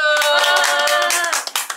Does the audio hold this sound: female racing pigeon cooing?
no